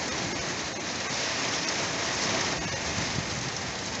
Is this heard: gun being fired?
no